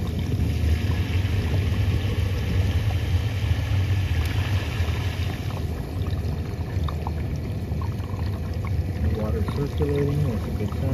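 Dishwasher circulating water mid wash cycle, a steady rushing, sloshing wash that stays loud and even throughout, with a slight change in tone about halfway.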